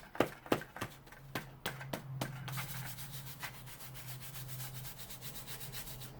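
Embossing powder is rubbed onto the back of a paper card with close, rhythmic scuffing strokes: a few distinct swipes at first, then quicker continuous rubbing.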